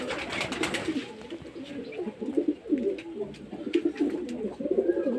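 Pigeons in a loft coo continuously, several overlapping low, throaty calls close by, with some wing and shuffling noise among them.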